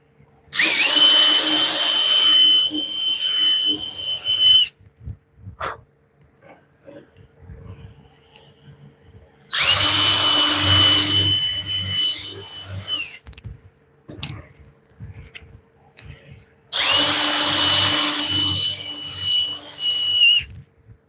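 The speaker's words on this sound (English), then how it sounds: "Just gonna put a little poor man's countersink" A power drill cuts a rough countersink in three loud, whining bursts of about four seconds each, separated by quiet pauses with faint handling noises.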